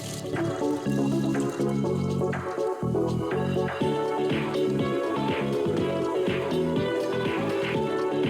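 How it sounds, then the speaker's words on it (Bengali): Potato pieces frying in hot oil for a chhana kofta curry give a loud, constant bubbling sizzle with busy crackles, continuing steadily throughout. "এবারে আলুর টুকরোগুলো বেশ লাল করে ভেজে নিতে হবে।"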